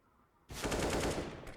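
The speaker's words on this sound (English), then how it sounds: "evades the bullets of Motion." Rapid automatic gunfire in a Rainbow Six Siege esports match bursts in suddenly after a quiet moment and stays loud and dense, a fast rattling stream of shots.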